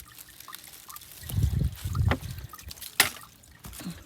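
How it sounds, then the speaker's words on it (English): Water trickles faintly out of sight along a hiking trail in North Carolina, a soft, irregular burble with small splashes rising out of quiet background noise. "I hear water."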